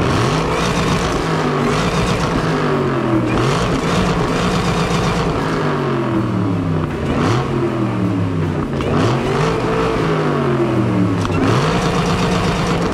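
A black sports car with a Tremec 6-speed manual and 662 horsepower, under 10,000 miles, revs hard again and again at a showcase, its loud engine note rising and falling repeatedly in sweeping pulls.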